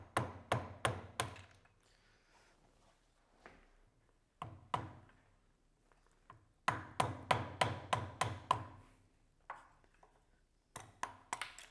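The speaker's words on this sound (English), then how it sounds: "I'm now just going to use a punch from the inside out to knock out the bushings" A hammer drives a metal punch to knock the swing arm bushings out of an OSET TXP20/24 electric trial bike, in close, sharp bursts of ringing strikes, four or five at a time, with pauses between.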